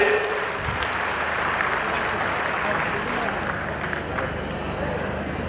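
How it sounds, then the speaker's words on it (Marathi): Crowd applause at a public award ceremony, a broad continuous roar of clapping from many people, loud and sustained, with voices mixed in underneath. "एकदा जोरदार टाळ्या झाल्या पाहिजेत"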